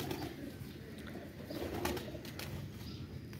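A high-flyer pigeon held in the hand during feather care, giving soft low coos with some faint rustling, fairly close and steady throughout.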